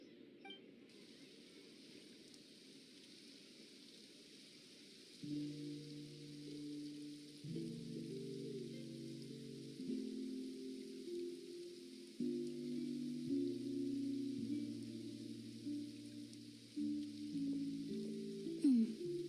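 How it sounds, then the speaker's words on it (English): Rain falls steadily in Genshin Impact's Fontaine region, a soft continuous hiss under a game music score of layered sustained tones that enter partway through and carry on to the end. "Looks like rain."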